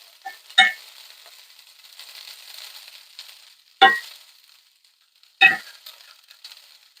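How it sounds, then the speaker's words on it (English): Okra frying in a pan over medium-high heat, three sharp bursts of sizzling and scraping with a low crackle between them, close and clear with no talking. "You want it to fry and start making a crust on the edges"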